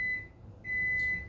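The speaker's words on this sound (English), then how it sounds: "I heard my microwave go off." A microwave oven beeps as it finishes, two long steady electronic tones separated by a short gap, loud and close with nothing else around them.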